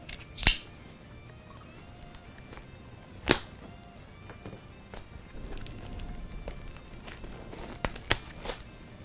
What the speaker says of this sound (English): let's rip this plastic off